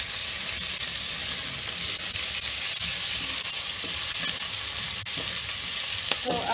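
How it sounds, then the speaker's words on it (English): Onions frying for beef masala, a constant even sizzle from the pan with occasional faint clicks and scrapes of stirring throughout. "I'll keep on stirring until the onions will simmer."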